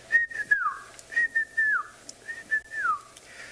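A person whistles three times, each a clear high note sliding downward, imitating a white-faced whistling duck's call, close and alone.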